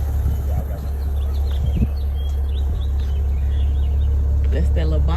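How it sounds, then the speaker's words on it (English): A Maserati Levante SUV engine holds a loud, steady low rumble close by, with birds chirping faintly in the background. "That's that Maserati truck. Y'all heard that engine?"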